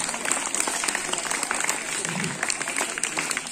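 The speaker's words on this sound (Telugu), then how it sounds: "Claps, big claps." An audience claps at a village district parish school event, a dense, continuous round of applause, close and fairly loud, with a voice briefly audible in the mix.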